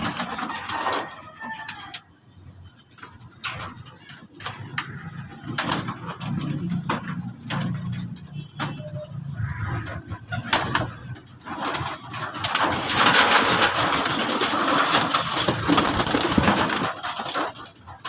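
Racing pigeons coo in soft, repeated throaty calls, fairly close, with scattered rustles and fluttering around them and a busier stretch of mixed noise toward the end.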